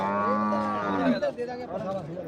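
A buffalo bull at a livestock market in Dhanaula, Punjab, moos loudly in a long, drawn-out low call that wavers, then breaks into a second rougher bellow, close by.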